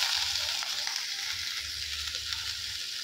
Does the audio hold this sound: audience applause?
no